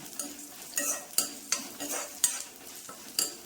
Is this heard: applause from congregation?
no